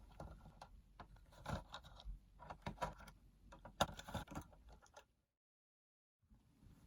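Screws are worked out of the casing of a vintage CGL Galaxy Twinvader tabletop electronic game, with close, quiet scraping, small metallic clicks and handling rattles, then a short silence before faint handling resumes.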